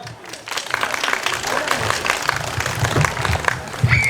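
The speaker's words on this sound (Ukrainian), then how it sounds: "ваші аплодисменти" An audience applauds after a festive comic performance, a dense, steady clapping that swells a little over four seconds, with a few brief voices mixed in.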